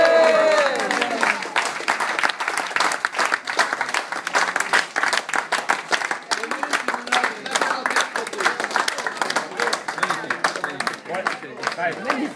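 An audience at a riverside event in Morannes breaks into warm applause after a song about Toulouse, with many hands clapping in a thick, uneven patter that stays lively throughout and briefly overlaps a fading sung note at the start.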